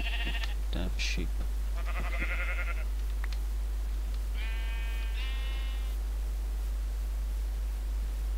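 Minecraft sheep bleat repeatedly in short bursts over a constant background hiss, a few close together at the start and two more mid-clip, then quiet.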